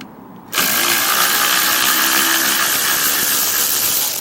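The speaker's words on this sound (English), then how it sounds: "Walking 1/4 inch M12 ratchet." An M12 1/4-inch power ratchet removes bolts from a Ryobi CS26 weed trimmer, starting abruptly into one loud, continuous high-pitched whir held close until the end.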